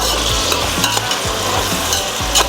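Onions fry loudly in a pan with a dense, steady sizzle, punctuated by rhythmic scraping stirs every fraction of a second, close up and without any talk.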